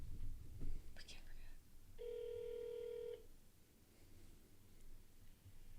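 Telephone number being dialed on a speakerphone: a steady multi-tone keypad or dial tone holds for about a second, with faint rustling and soft breathy voices around it.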